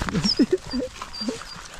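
Pit bull puppies whine and squeak in a few short high yelps close by, with small scuffling between cries.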